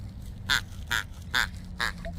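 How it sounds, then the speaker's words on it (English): A duck-shaped squeaky dog toy is squeezed four times at an even pace, each squeeze giving a short, nasal quack-like squeak close up against quiet background noise. "Where's the squeaker?"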